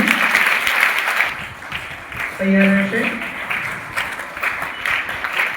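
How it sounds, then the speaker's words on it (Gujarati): Students clap at a school event at Shri Chatrabhuj Motilal Vidhyalay in Palitana, giving a spread-out patter of applause while a voice speaks over it through a sound system. "આપણે તાળીઓ જરૂર રાખશું વિદ્યાર્થી મિત્રો"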